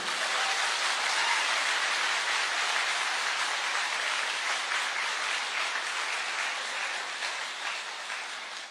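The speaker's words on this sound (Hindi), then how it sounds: "तो एक जोरदार तालियां आपके सेहत के नाम पे" Steady, dense applause from a crowd, sustained clapping that fades slightly toward the end, with no voices standing out.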